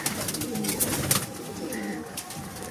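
Female black diamond pigeons, feather-footed, coo softly in a loft, low murmuring calls repeating through the clip among other birds, with faint rustling and no talking.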